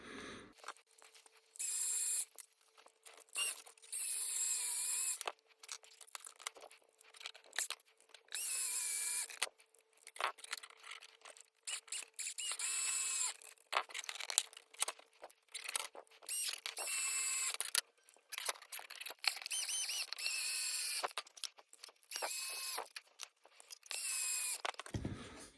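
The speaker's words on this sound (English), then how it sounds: "So I'm going to speed you up so you don't have to sit here and listen to the drill." Power drill driving screws into the roll cage of a Tamiya RC car, played back sped up: bursts of high whirring and whining that start and stop in quick succession, close up, with short quiet gaps between runs.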